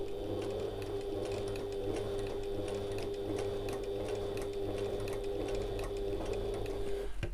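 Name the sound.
sewing machine stitching an evening bag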